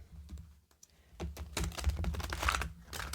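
Tarot cards being shuffled by hand, a run of quick papery riffles and flicks that grows busier and louder toward the end, close and alone with no talking.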